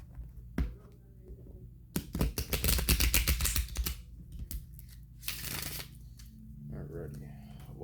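Someone shuffles a deck of cards, a short flap and then a quick rippling riffle, followed by a second softer riffle, close and crisp in a quiet room.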